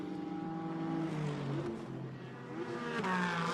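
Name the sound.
GT4 race cars, BMW and Porsche, racing at Hockenheim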